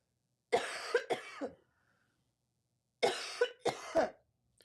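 Two bursts of coughing, each made of three rough, hacking coughs close together, separated by a couple of seconds of silence.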